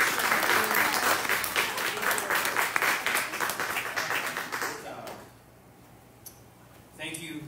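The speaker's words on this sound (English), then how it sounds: "Let's give Pastor Tim a round of applause." Church congregation at a Sunday worship service for pastor's appreciation breaks into warm, sustained applause that fades out after about five seconds, leaving near silence with faint taps.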